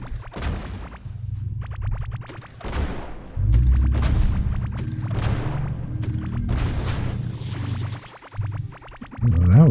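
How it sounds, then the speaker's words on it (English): Repeated booming explosions and whooshing blasts from the mining survival game Core Keeper, several loud bursts in irregular succession over a low rumbling bed, with no one talking. "was a good explosion"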